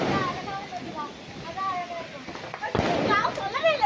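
A Diwali firecracker bursts at a family home celebration: one sharp, loud bang cuts through a stretch of chatter, with people talking before and after it.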